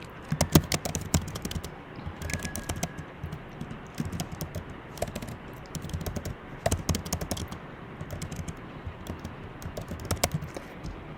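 Fingers type on a computer keyboard, a quiet run of irregular clicking keystrokes in small clusters with short pauses, close by and without any talking.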